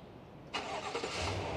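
A Cadillac Escalade SUV engine fires up by remote start after a brief quiet moment, catching abruptly and settling into a steady, close idle.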